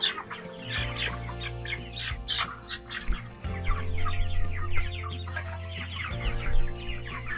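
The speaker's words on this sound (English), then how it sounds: "Hunting for hens." Hens on an off-grid homestead cluck and chatter repeatedly, several birds close by, with a steady low hum underneath and no talking.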